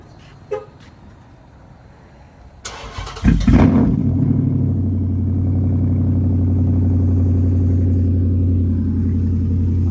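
An SRT8 V8 engine cold-starts after a short cranking burst, firing with a loud roar that settles into a steady, deep, rumbling high idle held close by for several seconds.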